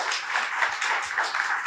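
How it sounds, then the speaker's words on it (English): An audience at a live talk event claps, a steady patter of many hands applauding together at moderate loudness throughout the short stretch. "a big round of applause to all of you in the audience"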